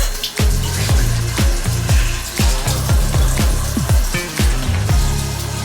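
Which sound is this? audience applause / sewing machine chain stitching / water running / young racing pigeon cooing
water running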